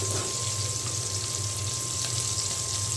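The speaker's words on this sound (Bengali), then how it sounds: "ট্যাংরা মাছের যে আমি ভেজে নিচ্ছি" Tangra fish coated in salt and turmeric frying in a pan, a steady close sizzle with a faint constant tone running underneath.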